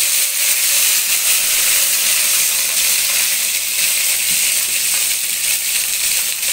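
Curry leaves fry in hot oil with cinnamon and cloves for a mutton coconut milk curry, giving a loud, steady, close sizzle and hiss with no break.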